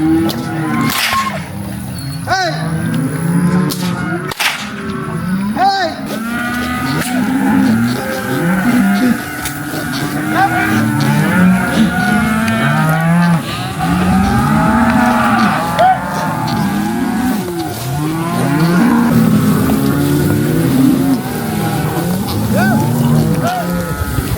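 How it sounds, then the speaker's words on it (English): Cattle mooing over and over, cows and calves lowing loudly and continuously as they are separated during an auction-day roundup, with shouting voices and commotion mixed in. "So now we are separating cows from calves"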